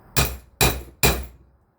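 Three sharp metallic hammer whacks on a GM 8.25 differential part during a rebuild, evenly spaced, each ringing briefly and fading, with no talk.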